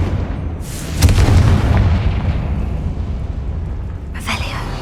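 Confringo fire spell explosion in the video game Hogwarts Legacy, a loud booming blast with a rumbling tail, followed by a second sharp burst near the end amid game noise.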